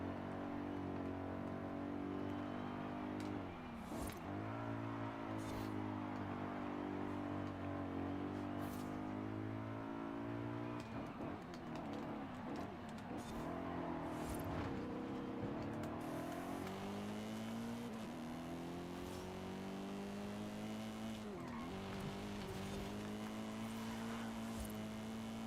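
BMW engine in Forza Horizon 5 revs and shifts through the gears, the pitch climbing and dropping repeatedly with occasional tire squeals, loud and continuous for the whole stretch with no voices.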